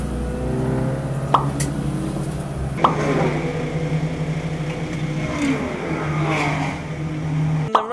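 Race cars pull away at the start of a three-hour club enduro at Snetterton, their engines droning loud and steady with rising revs and a few sharp knocks as the field moves off.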